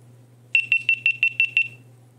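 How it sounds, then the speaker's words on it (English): Seven short, evenly spaced high-pitched beeps from a GoPro camera powering off, fairly close and clear over a faint low hum. "when you hold the power button down to turn it off, you'll get the 7 beeps"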